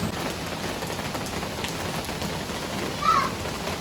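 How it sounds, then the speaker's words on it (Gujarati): Heavy rain pours outside in an evening downpour, a steady, dense hiss that holds constant throughout with a brief brighter swell near the end. "મારી પાછળ સખત એટલે સખત વરસાદ ચાલુ છે"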